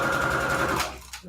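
A sewing machine stitches fabric onto receipt paper in one continuous, loud, close run of rapid needle strokes, then stops abruptly near the end with a brief clack, no voices.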